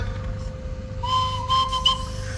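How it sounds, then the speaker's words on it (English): A miniature steam engine whistle, the S101 Thunderbolt, sounds with a thin, high tone over a steady mechanical hum and background noise at a historic vehicle gathering, lasting about a second and a half. "Can you have a whistle?"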